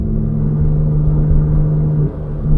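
A 1000-horsepower Porsche 911 996 GT2 driving fast, its engine a loud, steady, close-up drone with a sustained low tone that dips briefly near the end, as if shifting or lifting off.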